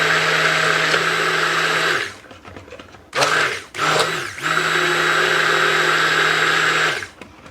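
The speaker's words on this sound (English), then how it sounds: "I'm going to blend the coconut mixture first" A blender whirs loudly through a coconut milk mixture for cold process soap, running steadily for two seconds, then two short pulses, then another long continuous run before cutting off.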